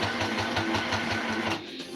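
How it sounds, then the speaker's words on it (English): Daughter's home sewing machine stitching in a steady, rapid rhythmic chatter of needle strokes, close and fairly loud, stopping abruptly near the end and leaving a quieter hum. "I probably should get a decent sewing machine at some point and not use my daughter's sewing machine so much."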